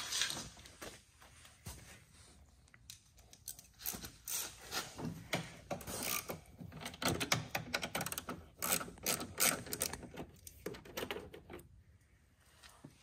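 Ratchet clicking while unscrewing two 10mm panel screws on a 2018 John Deere 2038R compact tractor: a dense run of close, crisp mechanical ticks and rattles, with no talk.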